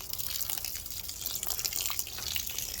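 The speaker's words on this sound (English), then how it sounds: "I'm just gonna come down and just pour it" Liquid fertilizer pouring steadily onto garden soil, a continuous hissing splash with faint dripping, close and fairly quiet.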